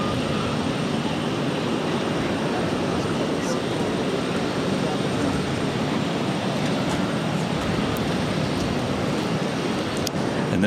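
A JetBlue Embraer E190 jet taxis toward the gate at Boston Logan, making a steady, dense engine rumble and roar that holds at an even loudness throughout, with possible faint voices underneath.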